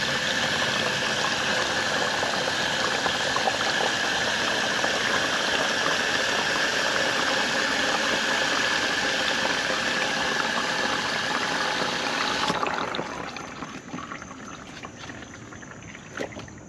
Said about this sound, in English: Let's fill this up with water first.